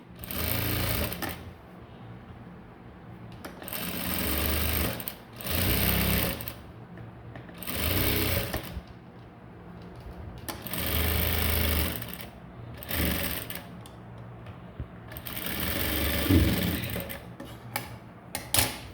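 Sewing machine stitching a blouse, running in repeated bursts of a second or two with short pauses between, a steady close mechanical whir and needle chatter, no voices.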